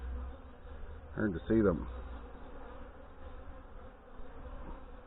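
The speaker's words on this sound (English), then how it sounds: "there's so many bees hanging around here" Honey bees swarm around an open beehive during hive inspection, a soft continuous buzzing hum close to the mic, with a brief voice speaking early on over the droning.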